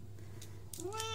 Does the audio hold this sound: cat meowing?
yes